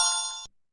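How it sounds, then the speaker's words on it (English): A short electronic chime from a JAWS/NVDA screen reader confirming a math translation in Word, a single clear bright tone that rings briefly and then cuts off into silence. "listen for 2 chimes because that's when we know it is completely translated into our beautiful math"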